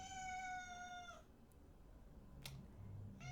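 A small cat gives one long, clear, close meow for attention, followed by quieter background sounds and a brief start of another meow at the end.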